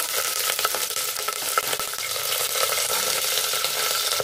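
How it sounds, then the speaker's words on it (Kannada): Cinnamon, cloves, cardamom and green chilies fry in hot oil with a dense, continuous crackling sizzle, close and steady, alongside faint stirring taps. "ಕಾದಿರೋದಕ್ಕೆ ಚಕ್ಕೆ, ಲವಂಗ, ಏಲಕ್ಕಿ ಕಾಯಿ ಇದನ್ನು ಸ್ವಲ್ಪ ಫ್ರೈ ಮಾಡ್ಕೋಬೇಕು ಎಣ್ಣೆಲಿ"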